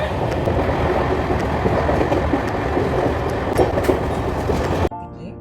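A train running on the rails, heard from on board: a loud, steady rumble with rattling carriage noise that cuts off abruptly near the end.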